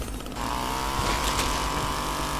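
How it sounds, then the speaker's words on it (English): Chainsaw in the zombie video game All Zombies Must Die, a steady buzzing engine whine running continuously and loudly throughout with game sounds layered over it. "I do take a lot of risk with this goddamn chainsaw."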